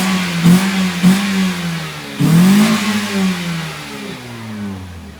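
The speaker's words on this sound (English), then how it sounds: "This trap car Vios, which like sounds pretty good," A Toyota Vios engine at a car meet revs several times in quick blips, then one longer rev that winds down, loud and close with a throaty exhaust note.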